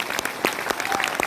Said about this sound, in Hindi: जोरदार ताली इन लोगों के लिए।